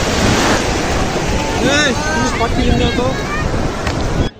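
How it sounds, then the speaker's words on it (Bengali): Sea waves surge and crash on the shore at Cox's Bazar beach, a loud continuous roar mixed with heavy wind buffeting the microphone, while people talk over it in the foreground. "অনেক ঢেউ হচ্ছে"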